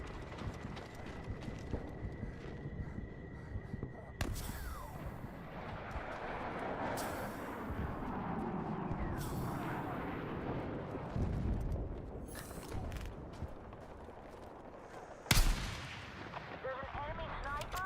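Shots ring out in a multiplayer shooter game, several sharp cracks spaced across the clip amid rumbling battlefield noise, hoofbeat-like clatter and faint chatter, with one louder blast near the end.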